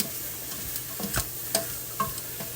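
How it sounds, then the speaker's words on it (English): Diced carrots sautéing in a pan, heard as a faint sizzle broken by a few sharp stirring clinks and scrapes. "Now we're going to add these carrots here. Like that. Diced up. Get them sautéing."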